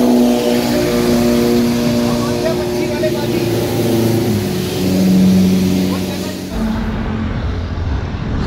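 A group of superbikes runs on a rainy road, their engines holding a steady, close droning hum that swells slightly before the tone drops away near the end.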